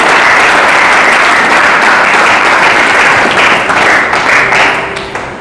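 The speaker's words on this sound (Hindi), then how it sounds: "हर कम से कम ताली तो बजाए दे करो उसके लिए।" Church congregation breaking into sustained applause during a sermon, a dense, loud wash of many hands clapping throughout that thins and fades toward the end.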